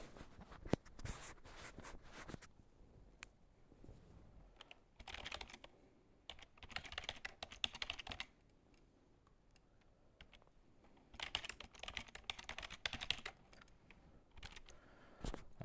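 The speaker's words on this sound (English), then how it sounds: "Let me type it in here." Computer keyboard typing while entering JavaScript code, with bursts of quick, close keystrokes separated by short pauses and quieter gaps, no talking.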